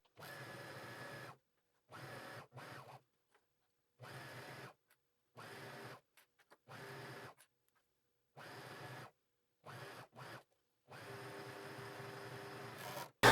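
A sewing machine stitches binding onto the edge of fabric for an agility tank top, running in about ten short bursts with brief pauses between, close and steady, with no talking.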